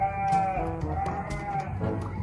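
Anglo Nubian goats bleat in a farm pen, a few wavering nasal calls overlapping close by against faint background animal noise.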